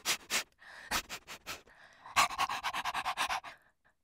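A person imitates a bloodhound dog sniffing and panting: a few separate sharp breaths, then a quick rapid run of close, loud snuffles that fades out.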